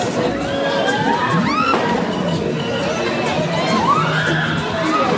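A crowd at a Ghost Rider motorcycle stunt show in Massy shouts and cheers continuously and loudly, with children's screams and whoops rising above the roar.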